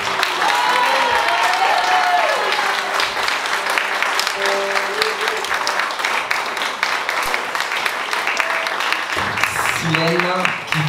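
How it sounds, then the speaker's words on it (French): Concert crowd at a small venue applauding loudly and cheering to encourage a singer, with sustained dense clapping throughout and voices calling out over it. "je vous demande d'applaudir très très très fort et d'encourager"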